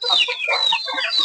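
A black hen clucks in a run of close, busy calls, with other chickens in a backyard native-breed flock chattering alongside.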